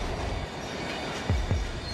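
A runaway train rolls on rails toward a station platform, a steady low rumble with two sharp, heavy thuds of wheels over rail joints near the end, close and loud.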